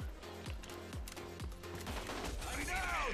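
Rapid gunfire from the video game Rogue Company, with repeated loud shots in quick bursts and a rising electronic whine near the end, under light talk.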